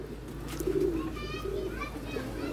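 Pet pigeons coo softly in low murmuring bursts under nearby talk, with children's voices and outdoor background noise in the yard.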